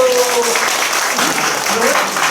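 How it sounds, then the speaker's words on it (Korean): Audience clapping at a Korean trot singer's new song showcase with fan club members. Steady clapping runs throughout, mixed with voices and some tonal sound. "박수 한번 치세요. 박수."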